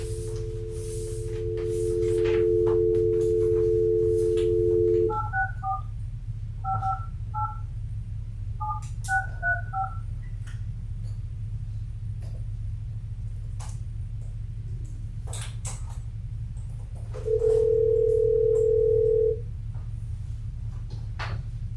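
A speakerphone call placed during a committee meeting: a steady dial tone, then a quick run of touch-tone dialing beeps in small clusters, followed by a single ringback tone, loud and close over a constant low hum, with no talk.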